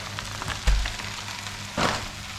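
About 1.2 kg of minced meat drops into a hot pan for chilli, giving a soft thump and then a quiet, steady sizzle with a brief surge of crackling.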